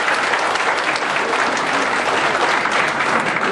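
An audience applauds to welcome a speaker at an evening forum, steady dense clapping from a sizable crowd filling the whole moment.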